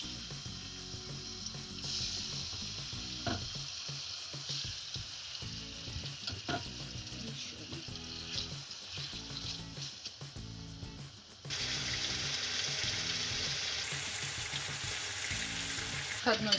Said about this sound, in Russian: С одной стороны мы обжарили, теперь перевернем.